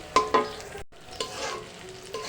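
Spinach and egg fry with a little mustard oil being stirred in a pan: a few sharp scrapes of the spatula over a light sizzle, briefly cut off, then soft stirring continues; no voices.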